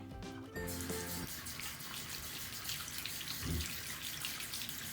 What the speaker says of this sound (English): Now I have to rinse my hand properly with the water.